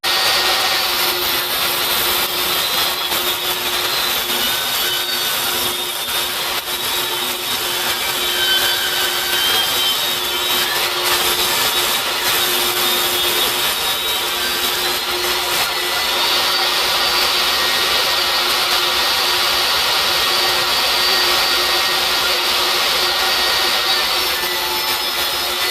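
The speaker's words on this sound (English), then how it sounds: "put it up on the table saw, and I'm going to be literally taking off about 1/8 of an inch" Steady, loud whine of a table saw trimming about an eighth of an inch off the edge of a cedar board, a continuous cut lasting the whole stretch with no talking.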